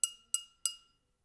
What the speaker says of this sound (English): I was doing a bit of experimenting with the glass, and I also used a fork.